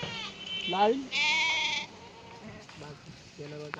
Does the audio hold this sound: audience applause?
no